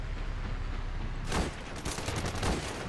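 Gunfire in the Ravenfield battle simulator during a modern siege of a medieval castle: a dense, steady bed of distant battle noise gives way to several louder, sharp bursts of shooting, with no talk.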